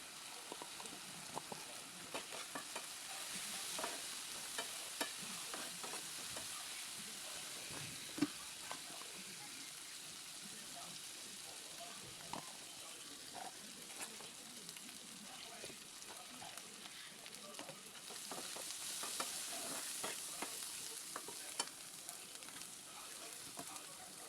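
Onions and spices fry in a pan with a soft continuous sizzle, broken by scraping and clinks of stirring that come irregularly, fairly quiet, with no talk over it.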